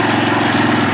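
An old Maico 600 motorcycle engine idles steadily without throttle right after its first start in five years, a loud, close, even low thumping chug with no voices over it.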